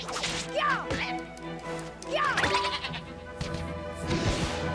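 A sheep in the video game Ni No Kuni: Wrath of the White Witch bleats twice in quick succession, then again a second later, clear and close over faint game background sounds.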